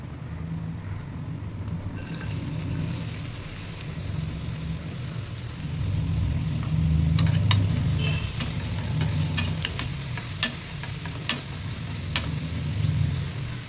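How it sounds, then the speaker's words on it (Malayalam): Sliced onions sauté in hot coconut oil, a steady soft sizzle under a low background hum, broken by several sharp clicks of a utensil against the pan near the end. "വെളിച്ചെണ്ണ ചൂടായി വരുമ്പോഴേക്കും സവാള കട്ട് ചെയ്ത് വെച്ചത് അതിലേക്കിട്ട് നമുക്ക് നന്നായിട്ട് വഴറ്റിയെടുക്കാം"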